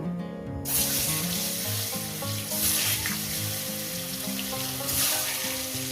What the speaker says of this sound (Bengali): তেলটা আমার গরম হয়ে গেছে দিয়ে দেবো একটু লবণ আর হলুদ দিয়ে এক এক করে আমি ডিমগুলো ছেড়ে দেব